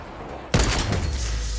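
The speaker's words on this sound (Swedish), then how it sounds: "Vad var det för jävla skott alltså?" Sudden gunshot in the Fortnite video game, a single sharp loud crack after a quiet moment, followed by a booming decaying tail.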